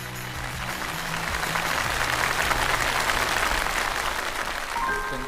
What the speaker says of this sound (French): Applaudissons encore bien fort Monsieur Chen pour son merveilleux discours